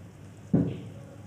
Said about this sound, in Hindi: अभी आधा कप 1 कप मैं इसमें पानी डालूँगी,